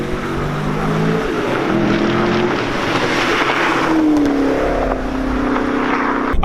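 A 2018 Chevrolet Camaro SS 1LE V8 pulls hard in third gear after a downshift, giving a loud, sustained engine roar with rising pitch from inside the car.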